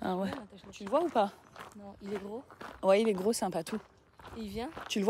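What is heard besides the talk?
No distinct noise like a dog, phone or traffic.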